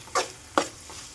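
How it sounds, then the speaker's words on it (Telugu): Egg curry is being stirred in a frying pan, with two short scraping strokes of a spoon against the pan over a low, faint sizzle. "మధ్య మధ్యలో ఇలా కర్రీ కలుపుతూ ఉండాలి"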